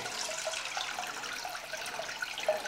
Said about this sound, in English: tank is filling up pretty quickly